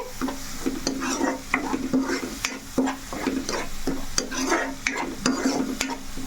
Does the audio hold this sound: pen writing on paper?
no